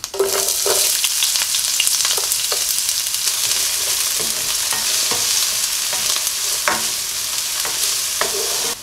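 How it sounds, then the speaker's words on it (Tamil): Steady, loud sizzling of chopped large onions frying in hot oil, with occasional scraping and stirring clatters throughout. "நறுக்கி வச்சிருக்கிற பெரிய வெங்காயம் போட்டுக்கலாம்"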